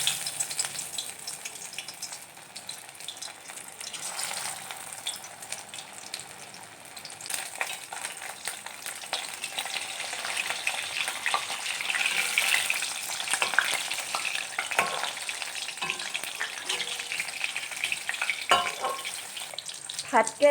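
Bitter gourd, coated in gram flour, frying in hot refined oil in a kadai gives a steady, close sizzle with occasional crackles and stirring scrapes. No one speaks.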